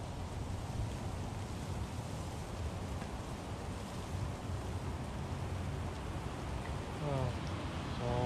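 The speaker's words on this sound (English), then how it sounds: "32 degrees out, rainy" Steady rain falling outdoors on a cold day near freezing, a constant broadband hiss of drops that fills the whole clip at an even, moderate level, with faint voice-like sounds near the end.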